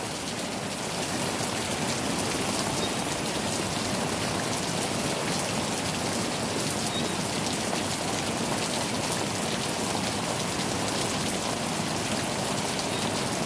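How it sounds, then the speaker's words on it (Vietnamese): Steady heavy rain pours down during a storm with wind, a dense continuous hiss of drops hitting surfaces, loud and unbroken throughout with no voices. "Út sẽ đi quay trời mưa cho cả nhà mình xem."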